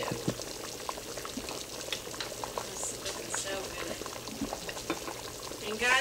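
A pot of chicken gumbo broth boils on a stovetop, giving a quiet, steady bubbling and popping with a soft simmering hiss, faint and close.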